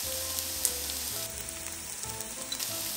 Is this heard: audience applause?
no